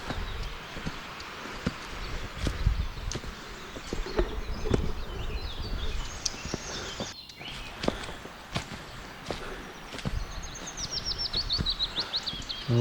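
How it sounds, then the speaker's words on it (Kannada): Forest birdsong on a morning trek up a ghat road to Koodlu Theertha Falls, with faint chirps and a rising trill near the end over crunching footsteps and steady insect buzz. "ಪಕ್ಷಿಗಳೆಲ್ಲ ಕೂಗ್ತಾ ಉಂಟು."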